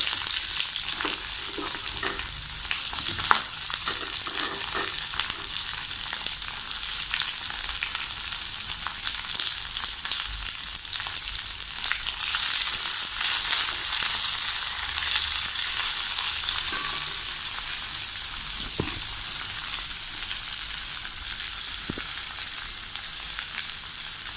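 A steady, close sizzle of onions frying in hot oil in a pan, with occasional crackles and faint stirring clinks throughout, no voices.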